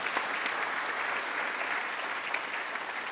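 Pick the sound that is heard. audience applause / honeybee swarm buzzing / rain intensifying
audience applause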